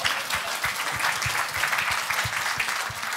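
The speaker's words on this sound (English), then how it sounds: "Well done, that lady. Round of applause." Conference audience applauding during a keynote at a B2B marketing event, a steady, fairly close wash of many hands clapping with no voices over it.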